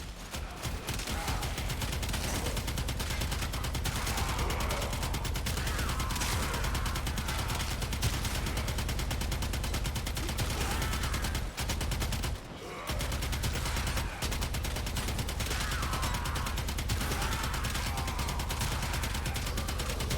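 Twin Kohmak guns in the game Warframe fire in rapid, continuous bursts, a dense stream of gunshots that runs almost unbroken for the whole stretch, loud and close, with only a brief pause midway.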